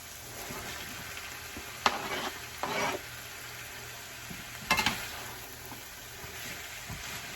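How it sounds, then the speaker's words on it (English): Celery, green pepper and onion sauté in a pan for a sausage and zucchini soup, a steady soft sizzle broken by a few brief scraping stirs of the utensil against the pan, no talking. "I'm going to saute with it the celery, the green pepper"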